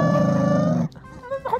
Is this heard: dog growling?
yes